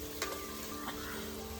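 Onions, cashew nuts and raisins sizzle in hot oil in a pan, a steady loud frying hiss with a couple of brief stirring scrapes.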